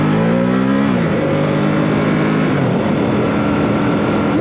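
Ducati Supersport S motorcycle engine running loud and close, holding a steady idle-like drone with a couple of pitch shifts as the revs dip and rise, continuous throughout with no talking.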